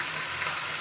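Spices frying in hot oil for biryani give a steady, soft sizzle that lasts the whole brief moment, with no talk.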